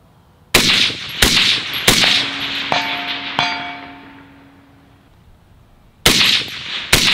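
Loud, close 6.5 Grendel precision rifle shots fired from prone and barricade positions, three sharp reports in quick succession, then a ringing metallic steel-target ping that fades, followed by two more shots near the end.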